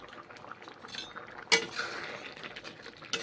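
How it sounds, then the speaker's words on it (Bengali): A metal spatula stirs drumstick leaf greens with salt in a pan, giving soft scrapes and light clinks with one sharp knock partway through, fairly close and with no talking. "লবণ দিয়ে খুন্তি করে নেড়ে চেড়ে রান্না করছি"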